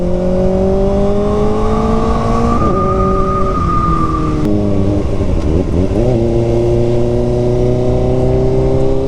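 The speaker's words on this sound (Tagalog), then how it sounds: "Ang ingay niya. Lalo pag dumating na sa 8K RPM." A Kawasaki Ninja ZX-4RR engine screams loudly and continuously near 8,000 RPM, its pitch climbing, dipping with a gear shift, then rising again, close by.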